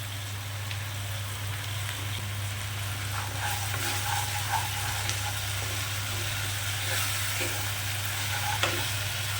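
Ginger-garlic paste fries with onion and salt in hot oil, giving a steady sizzle with occasional stirring scrapes and a low constant hum beneath, no talking.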